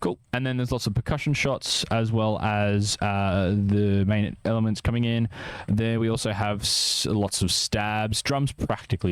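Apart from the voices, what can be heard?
No distinct noise like a dog, phone or traffic.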